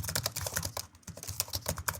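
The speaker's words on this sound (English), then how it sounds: "or typing on a keyboard" Fingers type quickly on a computer keyboard, a close, rapid patter of clicking keystrokes with no voices.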